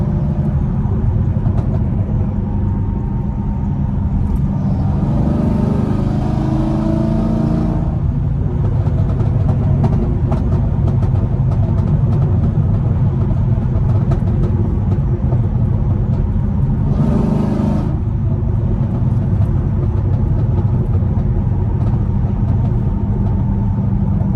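Chevrolet Camaro SS accelerating hard with paddle-shifter gear changes, a loud continuous engine roar with rising revs and brief shifts heard from inside the car, with no talking.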